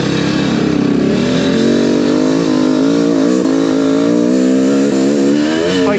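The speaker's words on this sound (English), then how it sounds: "Bike is so good at just tractoring along and not stalling." A dirt bike rides along a trail in low gear, its engine droning loud and close with a continuous, slightly wavering note under load.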